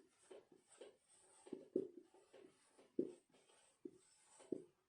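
Marker or chalk writing coordinates on a board in a geometry class, quiet rhythmic scratchy strokes and taps in short bursts, faint and close, with no talking.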